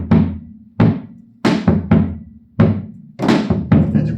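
Zabumba bass drum strokes ring out close and loud, about eight deep booming hits in an uneven pattern, some open and resonant, others quickly damped.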